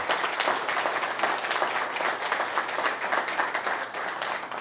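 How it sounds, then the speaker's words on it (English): An audience at a building industry summit keeps up dense, even applause throughout, close and fairly loud. "let everybody give a hand of applause"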